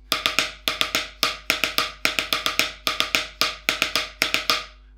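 Drum double strokes played slowly in an evenly spaced pattern of sharp, paired hits, close and loud, with clean decays between groups and no voice.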